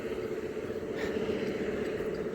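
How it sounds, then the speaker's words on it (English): Traffic on a busy rural road beside a fruit stand sends a constant low drone of passing engines and tyres, moderately loud and unbroken, with no voices heard. "Ooh, busy road and noisy too."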